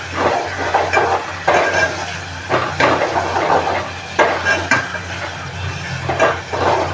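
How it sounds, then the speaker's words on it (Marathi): Ground masala paste for a boy fish curry sizzles and fries in a pan over a raised gas flame, a steady close crackle broken by repeated scraping stirs with no talking. "आता गॅसची फ्लेम वाढवायची आणि हे वाटण चांगलंसं मसाल्यावर फ्राय करून घ्यायचं"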